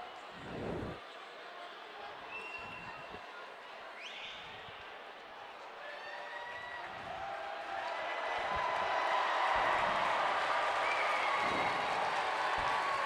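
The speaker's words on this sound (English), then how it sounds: "the crowd is so loud, they couldn't hear the starting lineup announcement" Arena crowd noise at a boys varsity high school hockey game, a steady roar of cheering and clapping that swells louder in the second half, with scattered shouts and whistles.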